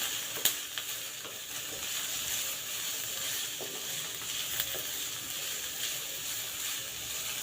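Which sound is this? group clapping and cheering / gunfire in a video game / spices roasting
spices roasting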